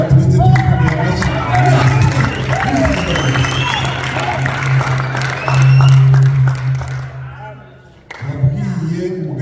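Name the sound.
congregation applauding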